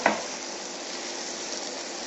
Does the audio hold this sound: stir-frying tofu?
yes